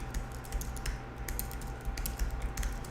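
Fingers type on a computer keyboard while searching Google Patents, with quick, irregular clicking keystrokes close by and no talking.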